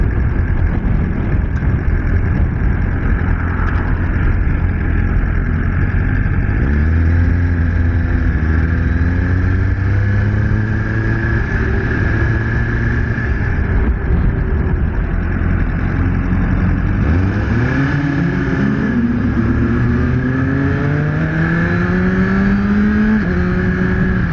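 Suzuki GSX-R1000R superbike engine on the street, rising through repeated loud revving climbs and gear changes under heavy wind rush, close and constant, no talking.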